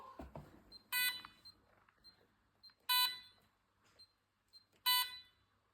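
A device alarm sounds three loud, shrill electronic beep bursts about two seconds apart after a button is pressed, with faint background noise between them.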